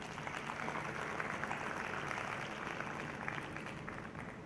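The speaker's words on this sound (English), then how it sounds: "Give him a big round of applause" A conference audience applauding at the close of a medical meeting, a steady dense wash of many hands clapping at an even level throughout.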